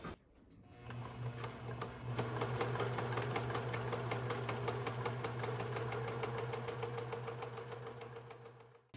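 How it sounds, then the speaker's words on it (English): A sewing machine runs a steady zigzag stitch along fabric edges, its motor humming under a fast, even patter of needle strokes that continues at a constant pace for several seconds. "I will just use a zigzag stitch to finish up these edges here."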